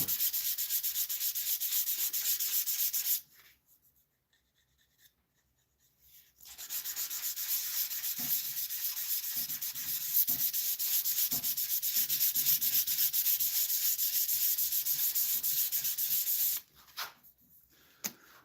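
Hand sanding with sandpaper: continuous rough scratchy strokes, close and fairly loud, interrupted once by a short pause and ending in a few brief rubs.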